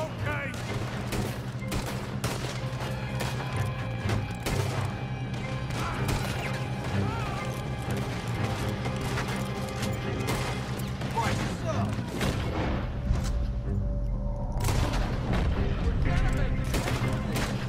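Gunfire from the Red Dead Redemption 2 video game rings out in rapid, sharp shots and bursts with crashing impacts, repeated across the stretch, loud and close, while players talk over it.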